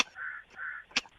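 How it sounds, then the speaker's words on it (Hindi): Two drawn-out crow caws sound in the background, each lasting a few tenths of a second, followed by a short sharp click. "पीछे से तो कौआ बोल रहा है"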